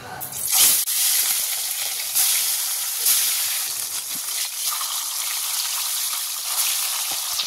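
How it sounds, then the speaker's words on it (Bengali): Parshe fish, rubbed with salt and turmeric, frying in hot oil in a wok, giving a steady close hiss and sizzle with brief louder crackles near the start. "কড়াই তেল গরম হয়ে গেছে, এবার মাছগুলো সব ভেজে নেবো।"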